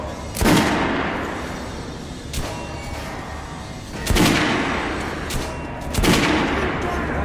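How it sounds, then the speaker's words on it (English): Weapons fired at a shooting range in Metro Last Light: four separate heavy gunshots spaced about two seconds apart, each with a sharp crack and a lingering echoing tail over a low, rumbling room ambience. "Head over to my range and try out those guns."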